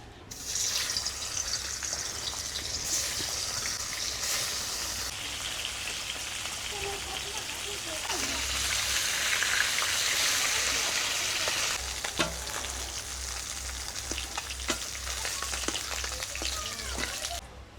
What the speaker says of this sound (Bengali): ওই তেলে এই মাছগুলো এবারে ভেজে নেব।